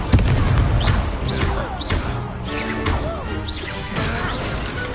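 Repeated spell blasts crackle and whoosh through a Hogwarts Legacy dueling match, several bursts arriving a second or so apart over a dense backdrop of game effects.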